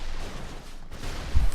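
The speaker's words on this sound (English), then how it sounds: "Shit, explosions!" Explosions in the video game Broforce, a dense, continuous roar of rumbling blasts and booming noise with a heavier thump near the end, loud and without talk.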